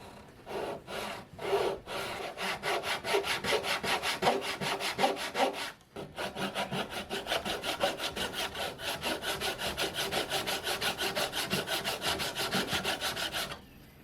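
A hand saw cuts a row of kerfs into a wooden breasthook. The strokes come in a fast, even back-and-forth rhythm, close and steady, with one brief pause partway through and no talking.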